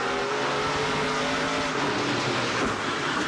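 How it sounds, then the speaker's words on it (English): Onboard engine roar from a CTL Dodge NASCAR Pinty's Series stock car during a race, a loud continuous drone with steady revving and no talk. "You see the window net is down on the CTL Dodge as we ride on board with Gary Klug"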